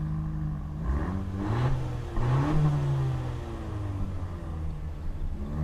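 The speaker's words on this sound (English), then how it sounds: "Rev it up there, Biddle." A 2017 Chevrolet Camaro ZL1 engine revs several times, deep rising and falling throttle blips over a steady idle rumble, moderately loud and fairly muted.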